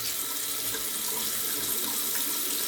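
Steady rush of cold water pouring from a tap for a post-shave rinse, constant and fairly loud, with no voices.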